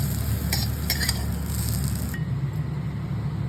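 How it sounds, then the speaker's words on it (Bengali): Gathi kochu (taro) tossed in a pan with a scattering of poppy seeds, a steady sizzle with a few light clinks of a spoon against the pan early on, close and continuous. "থেকে একটু পোস্ত ছড়িয়ে দেবো, নাড়িয়ে নিয়ে নামিয়ে নেব।"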